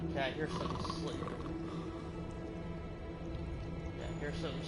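A creature snores in a Hogwarts wizard video game, a low rumbling growl-like breath under a voice talking.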